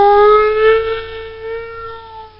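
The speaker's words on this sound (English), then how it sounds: "but also tornado sirens." A Chicago tornado warning siren holds a loud, steady wailing tone with a slight downward drift in pitch, continuous and alone.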